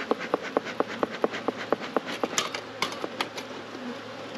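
Honeybees buzz around opened frames of a chalkbrood-diseased hive, a steady hum under a quick run of about fifteen sharp, regular clicks that thin out toward the end.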